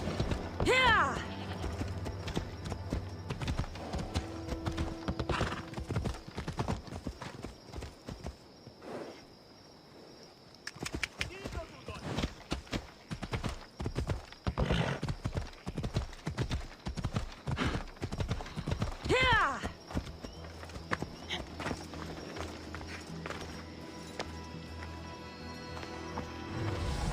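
A horse in Assassin's Creed Odyssey rides off in pursuit, its hooves beating a loud, steady clip-clop rhythm that stops briefly partway through and then picks up again.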